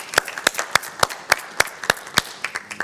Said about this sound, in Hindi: सबसे पहले ज़ोर से तालियां होनी चाहिए